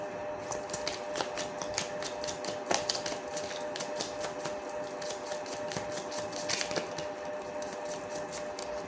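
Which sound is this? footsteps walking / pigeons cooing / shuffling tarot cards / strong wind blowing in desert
shuffling tarot cards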